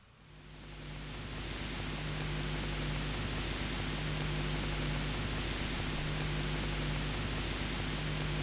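An Ableton noise generator produces a steady broadband hiss like pink or white noise, swelling up over the first second and then holding constant, with a faint low hum beneath. It is quiet and alone.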